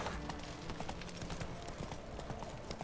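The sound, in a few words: horse galloping, clip-clop hooves, in video game The Witcher 3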